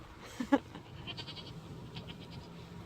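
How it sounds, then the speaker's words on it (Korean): A goat on a strawberry farm in Tasmania lets out one short, close bleat with a smaller call just before it, then the farmyard stays quiet. "염소가 쳐다봐."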